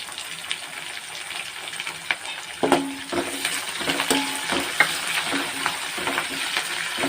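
Curry leaves frying in hot oil with onions for a Telugu bitter gourd (kakarakaya) fry, a steady close sizzle with stirring clicks and a few sharper crackles partway through, no talking.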